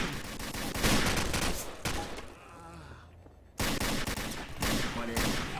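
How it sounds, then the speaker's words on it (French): Loud bursts of rapid gunfire in the Garry's Mod video game fire in close succession, pause briefly, then resume with more volleys. "dès que vous avez la tête en visu, vous tirez"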